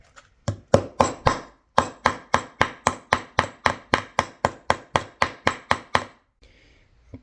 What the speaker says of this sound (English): These are stainless steel frets, so I don't need to really worry about damaging them with a steel hammer